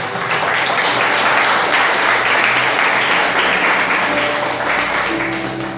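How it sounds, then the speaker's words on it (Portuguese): A church congregation applauds steadily for several seconds, a dense and fairly loud wash of clapping that fills the room without pause. "Você assenta, desocupa as suas mãos e aplauda Jesus bem forte."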